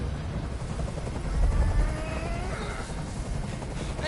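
A helicopter's rotor drone churns continuously in Detroit: Become Human, a dense, rumbling wash of noise that swells slightly midway, with no speech over it.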